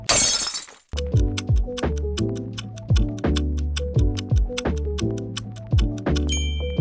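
Glass shatters in a loud, bright crash, followed by a rapid cascade of tinkling, ringing shards bouncing and pinging repeatedly.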